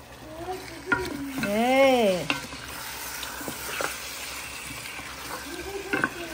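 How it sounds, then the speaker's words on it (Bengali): Beef with shatkora is stirred in hot oil in a pan, with a brief scraping stir, a scrape of the spoon and a soft background sizzle, and no talk over it. "নেড়ে দিলাম, একবার নেড়ে দিচ্ছি।"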